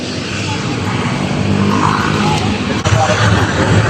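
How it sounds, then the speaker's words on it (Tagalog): Evening road traffic on Roxas Boulevard along Manila Bay, a continuous rushing hum of passing cars close by, with a person talking over it. "Pero tingnan nyo ang traffic guys."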